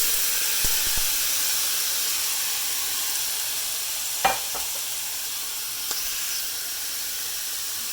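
Shrimp sizzle in a frying pan with a steady, bright hiss, broken by a few soft clinks and scrapes.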